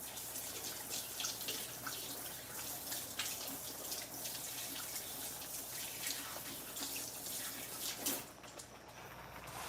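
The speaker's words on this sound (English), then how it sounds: "I'm washing my hands." Kitchen tap water runs continuously into a sink for handwashing while cooking Liberian palava sauce, a steady close splashing stream with a brief louder gush near the end and no talking.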